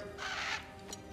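A crow caws once in God of War Ragnarök, a single harsh call standing alone at moderate level over a low ambient hum, with a brief second squawk near the end.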